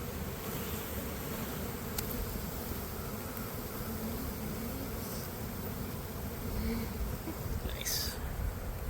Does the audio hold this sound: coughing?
no